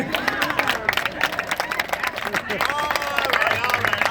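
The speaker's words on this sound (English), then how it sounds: "Once again, notice the applause." Audience at a magic show claps and cheers in a steady crowd roar, with a lively babble of voices mixed through the applause.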